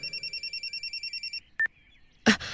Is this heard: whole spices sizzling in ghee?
no